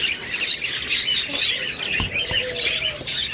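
A pair of lutino red-eye pet birds keeps up a busy run of close chirps and short squawks, dense and continuous, with a couple of soft thumps midway.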